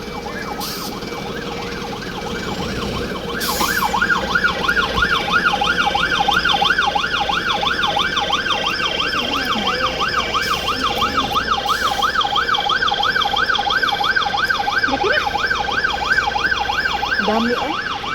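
Several fire truck sirens wail continuously in Hong Kong, a steady oscillating siren tone carrying loud and close for the whole stretch over traffic rumble, with a second siren layering in after a few seconds.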